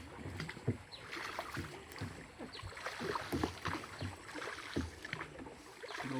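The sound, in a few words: rowing and pushing a wooden boat on a river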